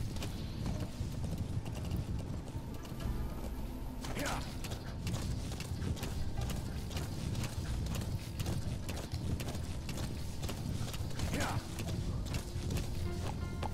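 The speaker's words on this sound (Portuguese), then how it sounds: "Quadrado acelera o cavalo" Horse galloping in Metal Gear Solid V, a steady rapid clip-clop of hooves with creaking tack running throughout over dense game ambience, with occasional whinnies rising above.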